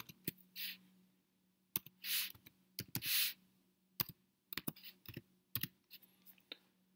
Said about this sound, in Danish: Du tager og skriver filnavnet på den